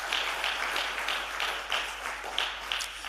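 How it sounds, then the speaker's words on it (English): A conference audience gives a modest round of applause, soft and somewhat distant, with loose uneven claps rising and falling under a faint low hum. "You can give him another round of applause."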